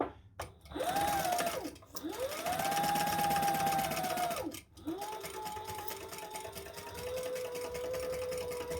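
A sewing machine stitches the center seam of a zip-around travel wallet in two close, loud bursts separated by brief pauses, then continues more quietly; no words are spoken.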